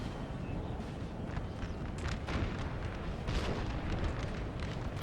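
Rumbling battle din from Napoleon: Total War, with a steady low roar and scattered dull booms of artillery fire, continuous and fairly loud, no talk over it.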